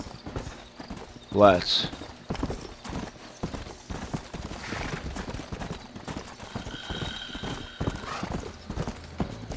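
Horse hooves clip-clop steadily on the ground in the Red Dead Redemption video game, with a brief whinny early on, running under a voice speaking throughout.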